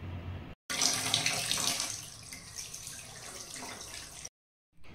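A kitchen tap runs steadily while fish are washed in a sink, a broad close hiss of flowing water filling the stretch between two brief pauses, with no talk.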